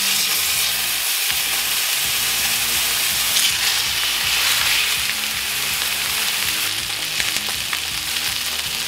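Steak sears in a drizzle of oil in a hot pan, giving a loud, close, continuous sizzle and crackle that holds steady throughout with no talking.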